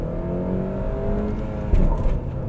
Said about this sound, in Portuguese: vamos subir aqui essa ladeira bem íngreme, ó. Vamos sair aqui da inércia, duas pessoas a bordo, ar ligado.